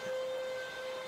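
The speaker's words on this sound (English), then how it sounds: "No, that's the vacuum. My dad's vacuuming." A steady motor whine with a sustained tonal hum, constant in level throughout, like a vacuum cleaner running nearby.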